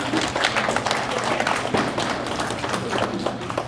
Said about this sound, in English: let's give a round of applause to all of the tutors here today